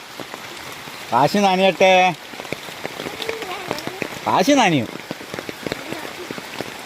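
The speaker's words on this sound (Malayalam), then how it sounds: "നല്ല മഴയാ?" Steady rain patters throughout, with a person calling out twice over the downpour.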